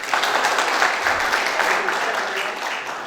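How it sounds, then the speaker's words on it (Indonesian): Clapping rises from the congregation at a youth church service, a steady moderate patter of hands lasting a few seconds and easing slightly toward the end. "Beri tepuk tangan buat teman-teman kita."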